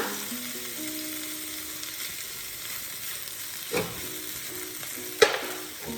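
Chicken tajine with olives and preserved lemon sizzling in a pot as harissa and turmeric are stirred in, a steady frying hiss with a soft scrape around the middle and a sharp utensil clack near the end.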